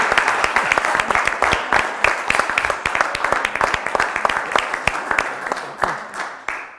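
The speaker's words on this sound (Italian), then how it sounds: "Un applauso." Audience applause on an Italian TV quiz show, dense rapid clapping from a studio crowd, loud and close, tapering slightly toward the end.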